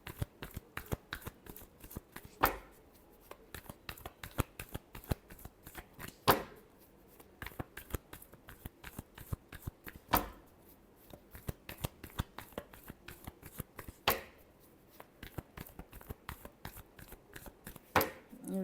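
Tarot cards shuffled over and over, dense papery riffles and flicks in quick rhythm, with sharper card snaps or taps about every four seconds, close and fairly quiet with no talking.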